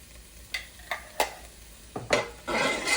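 Minced garlic sizzling in a soup pot: a few spoon-stir scrapes and taps, then a louder burst of hiss as the garlic hits the hot fat, close and clear with no talking.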